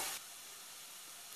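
Garlic and rice frying in a pan over medium heat give a steady, broad hiss, loudest in a brief burst at the start and then settling into an even, continuous sizzle with no talking.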